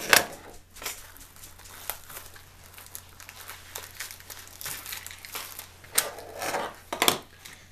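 A plastic package of matches from a survival kit being cut and torn open, with crisp crinkling and scattered clicks and rustles close by, no voice.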